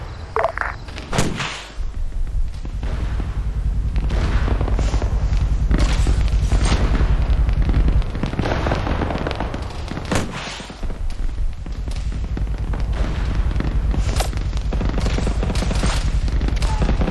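Gunfire aimed at a BTR armoured vehicle in the military shooter Arma 3: rapid bursts of rifle and machine-gun fire with heavy booms, loud and sustained, and a few voices faintly underneath.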